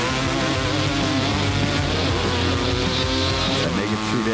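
Ice racing motorcycles, a new Kawasaki 250 four-stroke leading the lightweight class in a steel-shoe endurance race, drone with a loud steady engine whine that wavers in pitch, while a voice talks over it.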